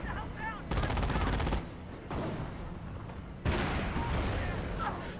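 Gunfire and tank shots from a Company of Heroes battle, with a Hetzer tank destroyer firing: loud bursts of rapid shooting and heavy blasts in dense clusters, separated by short lulls, with battlefield noise throughout and voices mixed in.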